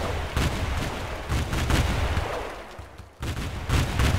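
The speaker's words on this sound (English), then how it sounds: "Bombarding." Artillery bombardment in a multiplayer game, a steady barrage of loud booming shots with one brief lull near the end before the firing resumes.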